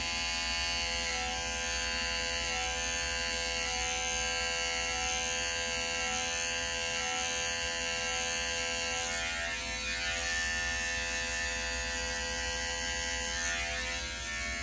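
Electric hair clippers fitted with a half guard, lever closed, trimming a beard fade; a constant close buzzing hum with slight changes as the blades move through hair, no talking.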